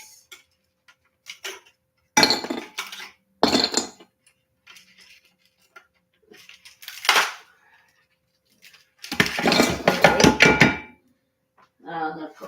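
Ice cubes tumble into a container in several separate bursts, giving sharp clinks and rattles with quiet pauses between them, close and fairly loud.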